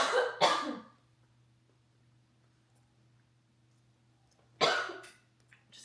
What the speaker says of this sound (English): coughing all over his chicken.